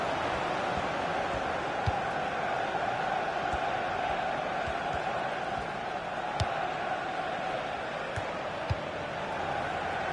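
A stadium crowd in the FIFA 16 football video game roars in a steady, dense wash of cheering and murmur, with occasional faint clicks and no clear voices on top.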